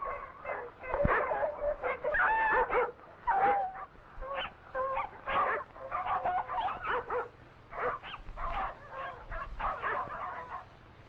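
Eskimo sled dogs hauling a sled through snow in northwestern Alaska, yelping, whining and barking almost continuously in overlapping bursts, fairly close, with rough old-recording quality.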